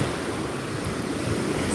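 Ocean waves wash continuously onto a beach, a steady broad roar of surf with some wind buffeting, close and fairly loud with no voices.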